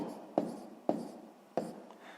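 A pen writes on paper while a sixth-grade maths exercise is worked through, giving three short scratchy strokes, each starting with a sharp tap and then a soft scraping trail, close and quiet with no voices.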